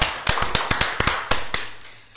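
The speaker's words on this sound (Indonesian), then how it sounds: "tepuk tangan dulu" A small group claps for a local podcast, giving a short run of sharp, close, distinct hand claps with uneven spacing that stops after about a second and a half.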